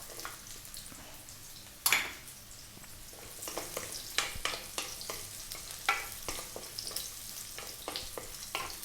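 Carrots sautéing in a pan for sweet and sour tofu: a soft continuous sizzle broken by frequent light scrapes and taps of a spatula stirring, heard close and fairly quiet, with no talk.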